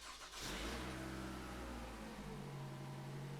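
A Toyota RAV4 engine cranks and catches after a brief click, then settles into a steady, close idle rumble that holds to the end without any talk.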